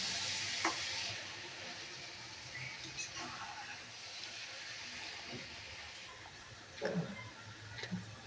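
Amudi fish and cabbage curry fries in ghee with a soft, continuous sizzle, broken by occasional spoon scrapes and stirring clatter.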